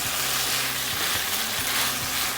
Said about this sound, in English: the beef has been cooking for a few minutes, and it's almost cooked through